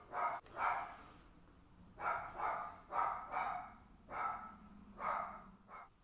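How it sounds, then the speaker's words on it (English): A pet dog barks at someone at the front door, a series of about seven mid-distance barks spaced irregularly over several seconds, moderately loud indoors with no talking. "my dog was freaking out"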